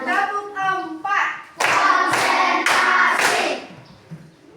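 In a classroom, a group of students claps in unison, a run of sharp, loud, evenly spaced claps following children's voices, with the rhythm set by a teacher's call.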